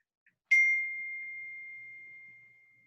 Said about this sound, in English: Oh, it's my phone.